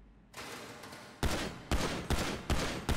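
Four sharp, loud combat pistol shots fire at a slow, even pace on the Ammu-Nation shooting range in GTA V, each a hard crack with a short decaying tail and no voices.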